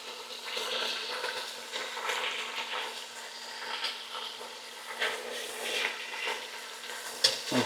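Beef rouladen sizzle and fry steadily in a pan, a dense continuous hiss with small crackling pops throughout and a louder clatter near the end, with no voices.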